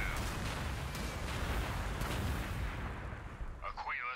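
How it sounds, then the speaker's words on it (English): Artillery fires quake shells from a strongpoint in the strategy game Gladius with an Iron Hands mod, making a dense, continuous, loud rumbling barrage that tapers near the end, where a processed voice briefly cuts in. "Firing quake shells."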